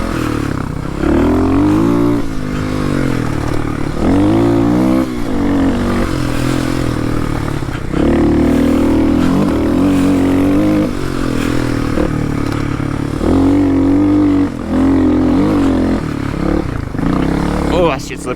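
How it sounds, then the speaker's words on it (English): A motorbike ridden and revved on a slippery surface, its engine droning loud and close with pitch rising and falling as the throttle opens, while a rider talks over the noise and scraping clatter comes through. "it's fun as fuck riding a motorbike"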